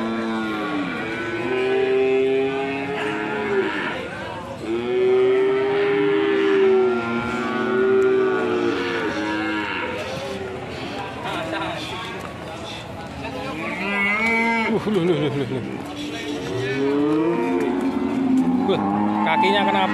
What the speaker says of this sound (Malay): Wah, sapi betina ini.